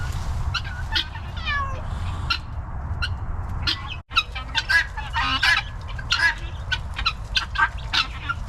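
Outdoor cats meow repeatedly in rising, drawn-out cries while domestic fowl cluck and squawk nearby, the calls overlapping in a busy, close backyard chorus with a brief gap midway.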